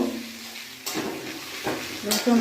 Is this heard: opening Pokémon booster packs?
no